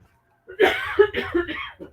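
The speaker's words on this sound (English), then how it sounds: "I'm going to have a coughing fit" A burst of several harsh coughs in quick succession, close and loud, with a brief raspy tail after silence.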